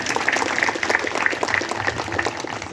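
A crowd claps steadily at a church golden jubilee celebration, a continuous close patter with faint tonal sounds mixed in.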